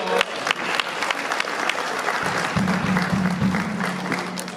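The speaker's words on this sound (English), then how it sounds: "Give yourself a round of applause." An audience claps steadily for several seconds, a dense spattering of applause with a low hum underneath.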